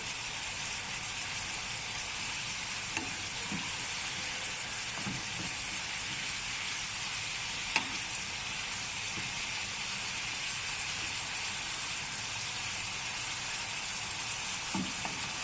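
Steady sizzling of meat frying in hot oil for shawarma, a constant crackling hiss with a few soft clicks and pops scattered throughout.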